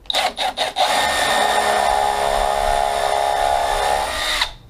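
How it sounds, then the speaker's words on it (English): A Bosch hydraulic impact driver drives a screw: three short bursts of the motor, then one sustained whirring run of about four seconds that stops abruptly. It is close and loud, with no talking. "I'm going to use the Bosch to show you the difference in noise."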